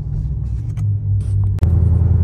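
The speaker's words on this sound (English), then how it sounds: "I wanted the burble a little bit, but I don't want it to burble too much" Dodge Hellcat on a 1000 hp tune idling with a deep, steady exhaust burble, loud and close, with a sharp blip at about 1.6 seconds before the low rumble settles back in.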